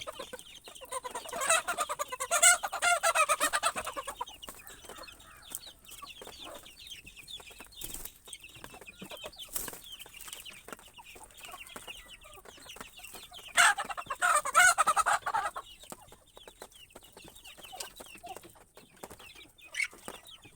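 Hens and chicks clucking while being fed leftover food mixed with curry, with louder bursts of busy clucking and chirping early on and again midway, and quieter scattered calls in between. No talking.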